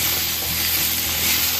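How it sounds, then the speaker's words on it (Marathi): Chopped tomatoes go into onions already sautéing in a pan for a bottle gourd kofta curry, giving a steady, loud, close hiss of sizzling oil that runs evenly throughout with no voices. "कांदा आता आपण थोडासा परतून घेतलेला आहे, त्याच्यामध्ये टोमॅटो घालून घेऊ।"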